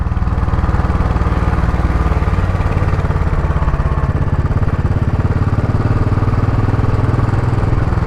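A budget motorcycle's engine runs steadily and close by, a low rumbling drone with a dense, even pulse that holds constant throughout, with no talk over it.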